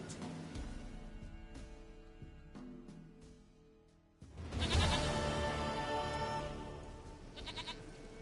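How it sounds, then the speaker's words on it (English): A goat bleats in The Witcher 3 video game, several short bleats in the first half, then a louder, sustained bleating call after a brief pause, close and clear with no talk. "Goat of mine, dearest, sweetest goat."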